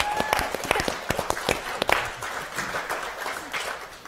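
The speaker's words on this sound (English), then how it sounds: "I think that deserves a round of applause in itself" A short burst of clapping from a small group, sharp irregular claps at first that thin into a softer patter.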